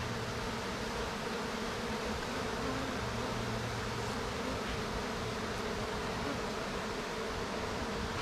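Honey bees buzz at an opened hive in a dense, steady drone that holds evenly for the whole stretch, close and continuous with no voices over it.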